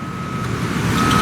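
A steady reversing beep tone sounds from a bulldozer working on a Los Angeles construction site, over a loud, rumbling wash of engine and traffic noise.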